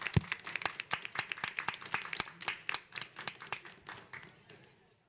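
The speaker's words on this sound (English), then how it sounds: "giving them a round of applause for their brilliant interventions today" Steady, fairly quiet clapping from a small audience for conference panelists, individual claps clearly spaced in a quick rhythm before tapering off near the end.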